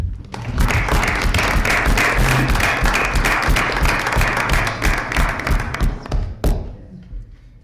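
Audience at a Portland Board of Education meeting applauds a student for his academics, loud dense clapping with some heavy thumps, sustained for about six seconds before thinning out and ending with a final clap.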